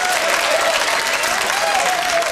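A studio audience claps through the whole stretch at a 1980s live comedy show, a dense, steady wash of applause at even loudness with no talk on top.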